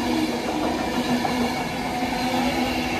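Class 390 Alstom Pendolino electric train at Macclesfield station, a continuous close rush and hum of the train moving past, steady and loud with no talking.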